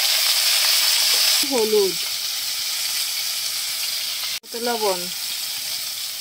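Cauliflower fries in oil in a pan for fish curry, a steady loud sizzle throughout, briefly cut off once, with a voice speaking softly under it.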